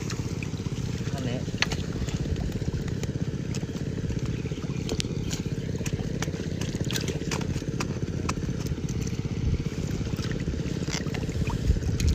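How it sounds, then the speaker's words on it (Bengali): Motorized machines draining fish enclosures around village ponds keep up a continuous, rough, engine-like drone, while a person speaks over the steady noise. "ওই জন্য সব জায়গায় মেশিন চলছে, ওই জন্য তোমাদের একটা নয়েজ আসতে পারে"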